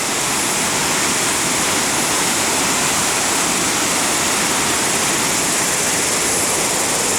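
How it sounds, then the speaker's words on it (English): A mighty stream in Rotorua rushes loudly and continuously, a close, dense roar of heavy flowing water with no voices over it. "And the heavy water flowing here."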